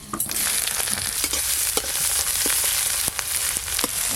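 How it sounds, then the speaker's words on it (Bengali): Chopped onion frying in hot mustard oil with bay leaf, dried chilli and five-spice tempering, a loud steady sizzle filling the pan with scattered sharp stirring scrapes and clicks throughout. "এবার দেবো পেঁয়াজ কুচি"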